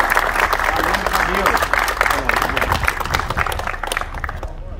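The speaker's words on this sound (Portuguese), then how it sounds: "Excelente, uma salva de palmas aí" Applause breaks out for Camilo, a student honored for a military training field exercise, loud and near with dense clapping. Voices talk over it, and the sound thins and fades toward the end.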